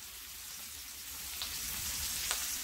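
Ground meat fries in a skillet, giving a steady, even sizzling hiss at moderate level with a couple of faint pops, heard alone without talking.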